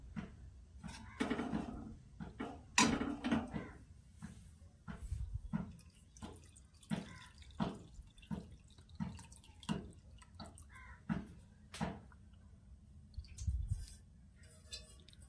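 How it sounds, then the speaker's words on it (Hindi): Small splashes and drips of water fall into a pot of green leafy vegetables cooking in a village kitchen, in short irregular bursts, close by and moderately quiet, with no talk. "तो अभी इसमें पानी डाल दूँगी थोड़ा सा और"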